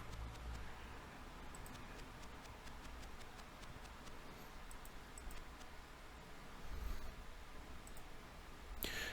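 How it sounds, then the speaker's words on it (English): Faint, sparse clicking echoes down a tunnel in the Atari ST game Temple of Apshai, irregular ticks over a low hiss. "The clicking sound is clearly audible from the north end of the tunnel."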